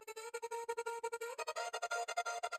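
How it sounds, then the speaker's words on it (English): A chopped vocal sample in a melodic drum and bass break, rhythmically sliced into short repeating syllables that stutter in a steady pulse, turning brighter and fuller halfway through, with no talking. "Then I also added this cool vocal chop."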